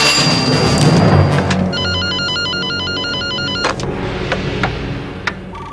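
Telephone ringing in the film WarGames: a loud electronic ring in regular bursts for several seconds over a low rumbling background, followed by a few sharp clicks.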